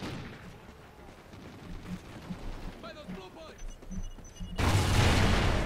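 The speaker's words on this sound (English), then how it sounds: "Shots being fired from somewhere." Gunshots in the video game Call of Duty: Ghosts: scattered muffled thuds and pops build up, then give way to a sudden loud burst of heavy gunfire near the end, with game voices mixed in.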